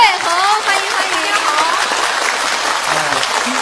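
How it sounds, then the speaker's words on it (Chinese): A theatre audience at a Yue opera anniversary gala applauds to welcome a performer onto the stage, a dense wash of clapping that starts loud and stays steady, with faint voices under it. "掌声欢迎张瑞红"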